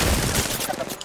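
Rapid gunfire in the video game Apex Legends, a dense burst of overlapping shots crackling loudly over about a second.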